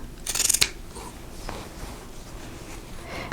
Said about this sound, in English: I'm going to trim off these corners